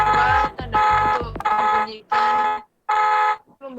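Electronic car alarm in a simulated alarm system, sounding in loud repeated tonal bursts of about half a second with short gaps, sharp and close.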